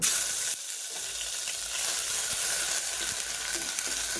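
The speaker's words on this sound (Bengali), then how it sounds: "কড়াতে তেল গরম হয়ে গেছে, এবার আমি আদা রসুনের পেস্টটা দিয়ে দেবো" Ginger garlic paste hits hot oil in a wok, a loud bright sizzle that drops away briefly, then returns as a steady crackling hiss with small pops, close and continuous, with no voices.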